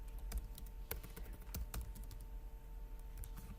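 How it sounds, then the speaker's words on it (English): Computer keys are mashed in an irregular burst of close, quiet clicks and taps over a steady low hum, with no talking. "try mash on keyboard"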